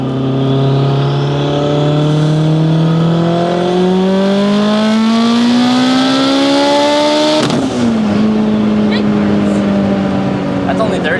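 A turbocharged Mitsubishi Evo with a bigger turbo pulls loudly through the gears, engine pitch climbing steadily, then a sharp shift break with a pop and the revs settling lower, close and intense.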